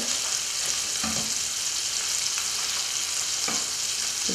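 Sea bass fillet frying in a pan on high heat gives a steady, loud sizzle throughout, with a few soft clicks and bumps from the pan.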